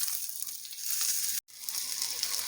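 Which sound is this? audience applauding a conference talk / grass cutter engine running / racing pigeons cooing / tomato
tomato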